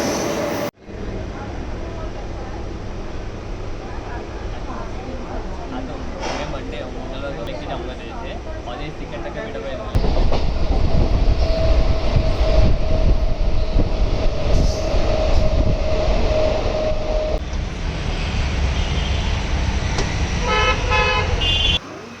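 A nearly empty Mumbai suburban local train to Goregaon rumbles and clatters steadily from inside a carriage, growing louder midway, with a drawn-out horn and voices in the background.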